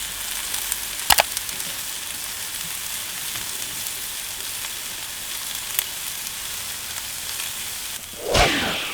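Bacon sizzling steadily on a Q griddle during its first cook, a continuous close hiss with a sharp scrape near the start and a brief swish and clatter near the end.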